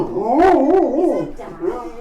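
A dog gives a drawn-out, wavering howl-like bark, then a shorter yelp follows, close and fairly loud.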